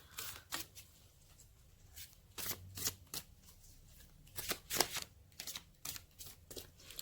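A deck of cards is shuffled close by at low volume. Several quick riffles and flutters come in uneven bursts, and no one talks.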